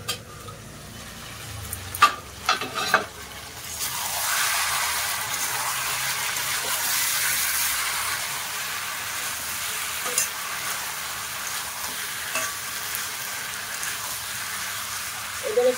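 Mutton curry with papaya being stirred in an uncovered pot, a few scraping clatters of the spoon early on, then a steady soft simmering sizzle with occasional light knocks, no talking.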